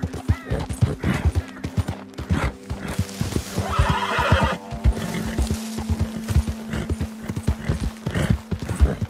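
Rhythmic clip-clop of horse hooves at a steady trot in the video game Red Dead Redemption 2, close and clear, with a horse neighing partway through.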